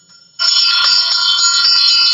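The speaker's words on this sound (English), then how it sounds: "this is a really beautiful brass bell" A brass bell rings out loud and bright after a brief quiet moment, its sustained metallic tone holding steady and close, with no talking over it.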